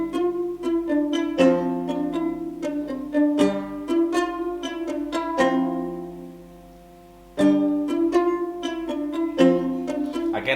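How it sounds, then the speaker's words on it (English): Charango from the Spitfire Audio Labs library plays a bright plucked arpeggio pattern, strummed chords rippling in quick repeated figures, pausing briefly near the end before resuming, clear and upfront with no voices. "So I introduce a charango doing the same thing"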